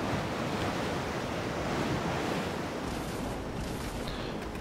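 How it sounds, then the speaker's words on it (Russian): Wind and rolling sea waves from the naval video game World of Sea Battle make a dense, steady roar of surf and gusting air that stays loud throughout, with no talking. "Этот ветер, ребят, ух уж этот ветер."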